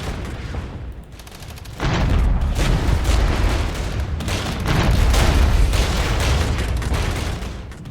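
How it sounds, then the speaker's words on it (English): Heavy artillery fire pounds in during a battle in Regiments, a Cold War real-time strategy video game, with continuous loud rumbling booms and blasts overlapping into a dense roar. "Some pretty serious artillery fire, of course, coming in on us."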